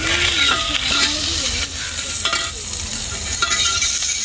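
Fenugreek, cumin, dried red chillies, curry leaves and garlic fry in hot oil for a village chicken curry, a steady close sizzle with a few scraping stirs of the spoon and no talking.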